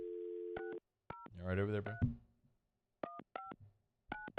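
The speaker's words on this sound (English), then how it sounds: "Just a long dial tone." Telephone tones during a phone call: short beeping dial and keypad tones sound in brief separate bursts, with someone speaking briefly between them.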